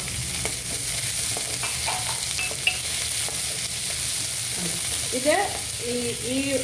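Curry leaves and a slit green chilli sauté in a hot pan with a steady, close sizzle and frying hiss, joined now and then by faint stirring scrapes and a brief voice.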